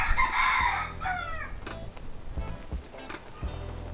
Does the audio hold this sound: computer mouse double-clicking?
no